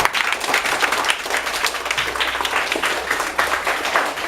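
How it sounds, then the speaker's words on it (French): An audience at a children's reading contest claps steadily and fairly loudly for a jury member, an even wash of hand claps lasting about four seconds with no speech over it. "qu'on applaudit bien fort"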